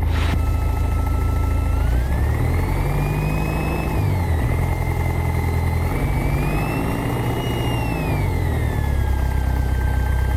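A small aircraft's piston engine warms up on the ground in the morning, a loud, steady droning hum with slight rises and falls in pitch, close and continuous.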